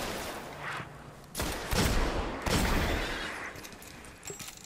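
Pistol fire in the video game Destiny, with a few loud, sharp shots spaced about a second apart over a low rumbling background.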